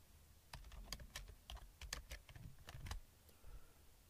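Clicky keystrokes on a computer keyboard as text is typed into a PowerPoint 2016 slide, coming in quick uneven bursts with brief pauses, close and fairly quiet, no voices.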